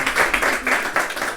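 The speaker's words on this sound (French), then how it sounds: "On l'applaudit vraiment." A small group claps briefly at a local shop-themed event in Clermont-Ferrand, quick uneven bursts of hands close by lasting little more than a second.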